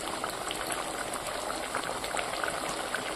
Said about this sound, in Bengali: মশলা কষানোর সময় একটু জল দিয়ে দিয়েছি, যাতে সেদ্ধ হয়ে যায় আর মশলাটা যাতে পুড়ে না যায়।